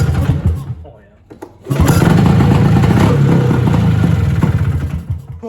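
Engine of a barn-stored vintage snowmobile: a faint start, a short lull, then a loud, throaty steady run with an irregular low rumble, heard close by, with people talking over it.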